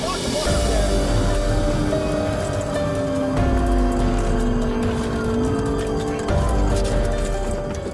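SUV pursued by police and stopped with a pit maneuver: engines roar loudly and continuously with rising revs and some tire noise; no voices.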